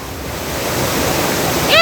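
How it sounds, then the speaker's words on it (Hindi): A loud, steady roar of floodwater rushing down a street in Junagadh, broad and turbulent, growing slightly stronger toward the end. "देख लीजिए बीच सड़क पर कैसे इंसान पानी के प्रवाह में बहता जा रहा है।"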